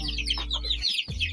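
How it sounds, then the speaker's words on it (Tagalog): A hen clucks close by on a farm, a short burst of soft repeated clucks with faint chick peeps above, lasting just over a second. "Kaya talagang awat na awat ang mga sisiw bago ni Lola ito pakawalan"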